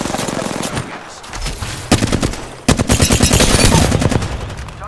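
Rapid automatic gunfire in a ranked match of a battle royale shooter, played as Caustic on Kings Canyon: loud, close bursts of quick repeated shots with brief gaps between them.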